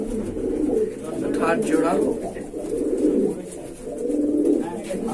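Madrasi pigeons coo steadily in a loft, a low rolling burble running throughout while someone talks over them in Bengali.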